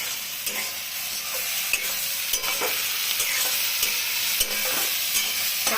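Sliced onions for egg curry fry on a gas flame turned up high, a continuous loud sizzle with intermittent scraping and clinks of a stirring spoon against the pan, no talking.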